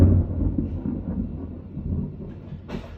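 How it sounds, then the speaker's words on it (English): Thunder rumbling low and heavy, a sustained deep roll through the whole stretch with a brief brighter crack near the end, no talk. "There's the thunder."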